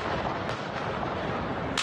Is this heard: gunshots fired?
yes